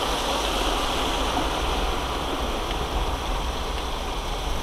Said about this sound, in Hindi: हाँ पानी बह रहा है, पानी मजबूत है